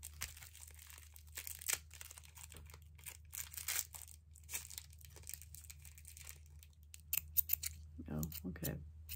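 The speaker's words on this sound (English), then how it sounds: "I believe this is a pair of scissors" A pair of scissors is handled during an unboxing of milk cotton yarn, with soft snips, clicks and crinkling packaging rustles close by, broken up by short bursts of talking.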